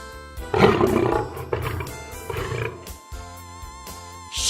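A lion gives a loud, rough roar that swells and fades over a couple of seconds, followed by quieter growling, heard over soft background music with no talking.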